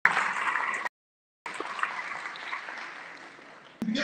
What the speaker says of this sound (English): let's give a giant round of applause